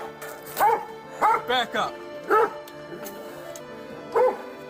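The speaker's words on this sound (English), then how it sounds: "He's been inciting the dog to bite." A police dog barks in several loud, sharp bursts spread across a few seconds, close by, over a tense arrest scene with people talking and shouting commands.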